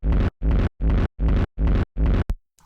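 Dry techno kick drum with its midrange dipped, struck six times in a steady, evenly spaced rhythm, each hit loud and booming with a short decaying tail, ending in a brief clipped hit and a faint noisy blip.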